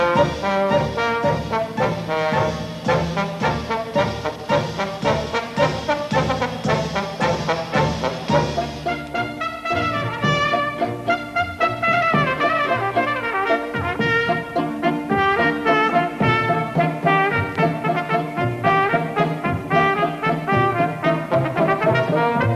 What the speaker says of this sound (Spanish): Y ahora oiremos esta gran obra del arte pop, la Marcha Real de la Historia del Soldado.